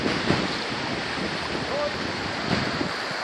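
North Sea surf washing onto the beach at Rømø island, a broad continuous hiss of breaking waves with wind buffeting the microphone, fairly faint and steady with small swells.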